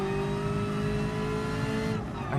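A Ferrari F40 in GT Sport at Bathurst braking hard and downshifting, its engine droning loud and steady with a falling tone, then a quick drop and blip as it shifts down near the end.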